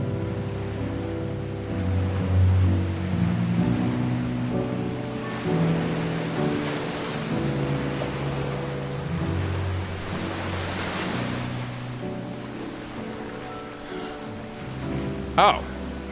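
Ocean waves surge and wash steadily in Final Fantasy XVI, a broad rolling roar layered with sustained musical tones and a brief sharp sound near the end.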